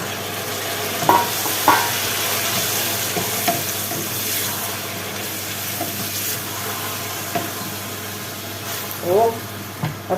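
Tomatoes sizzle and fry with peppers in a hot pan, giving a steady loud hiss with occasional stirring clatter and brief voice sounds underneath.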